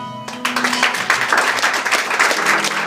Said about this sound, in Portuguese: Vamos louvar a Deus com uma salva de palmas.